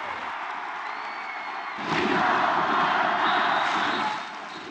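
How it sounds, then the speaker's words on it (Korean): A large crowd's murmur at a baseball stadium suddenly swells into a loud roar of fans cheering, holds for a couple of seconds, then eases back. "잠실 야구장은 위드 코로나 시대의 첫 현장 관람을 즐기려는 팬들의 함성과 응원가 소리가 가득했습니다"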